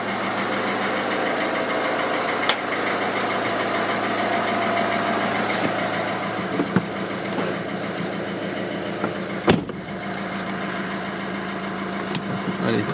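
A Peugeot 307 SW 1.6 HDi 110 hp diesel engine runs steadily at idle, a continuous low throbbing hum with faint mechanical knocks and a few brief clicks, heard up close in a garage driveway.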